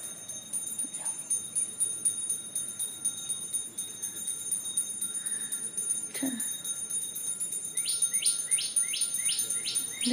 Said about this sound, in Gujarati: પક્ષીઓનો અવાજ આવે છે મસ્તના.